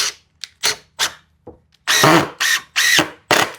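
Power drill driving a screw diagonally into lumber for a skate ramp, short loud whirring bursts separated by gaps, then longer, stronger pulses close to the ear.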